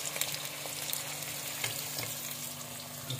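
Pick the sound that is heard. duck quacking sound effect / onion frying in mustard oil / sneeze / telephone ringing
onion frying in mustard oil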